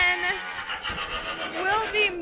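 A tool cuts along the roof of a school bus during a roof raise, making a rough, continuous rasping grind with faint whining tones rising and falling.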